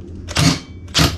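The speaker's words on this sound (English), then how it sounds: "what I'm using here is my little rattle gun or torque gun and a 24mm" Two short bursts from a small impact wrench (rattle gun) fitted with a 24mm socket, loosening a nut while converting a GM 140A alternator onto a Nissan RB engine; each burst is close, loud and hammering, separated by a brief pause.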